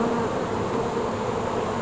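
Honeybees swarm around an open beehive in a continuous, dense, close buzz that holds steady from start to finish.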